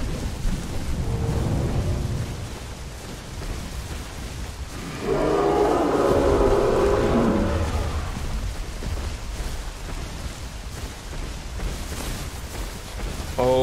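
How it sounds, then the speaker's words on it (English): Rain and thunder in the dinosaur survival video game The Isle, a constant hiss of rainfall with a deep rolling thunder rumble swelling midway, loud and close, with no voices. "You can't sniff food out when it's raining."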